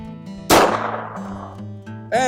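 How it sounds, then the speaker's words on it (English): A single sharp, loud gunshot from a 9mm Magnum load fired with a Magnum primer cracks out close by and then decays into a ringing tail, with a steady hum underneath and a brief electronic chirp afterward. "now let's shoot that Magnum"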